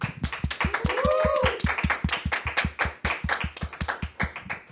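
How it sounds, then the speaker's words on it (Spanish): Audience applause at a Spanish-language Catholic talk: steady close hand clapping in a quick even rhythm, with a brief whistle-like tone rising and falling early on. "lo despedimos con un fuerte aplauso"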